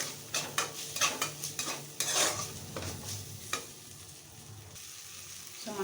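Ghugni masala with cumin powder and chopped tomato being sautéed in a pan: a run of rhythmic spoon scrapes and knocks against the pan over a steady sizzle, easing into quieter frying.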